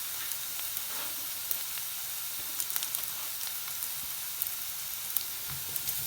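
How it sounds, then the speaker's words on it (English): Ginger sautéing in a pan over a medium flame for momo filling, a steady close sizzle with scattered small pops and crackles throughout, no voices. "And also I will saute it for 5 to 10 seconds"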